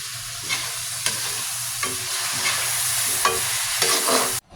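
Pork afritada sizzles steadily in a pan while a utensil stirs and scrapes through it in regular strokes, close and continuous with no talking, ending abruptly.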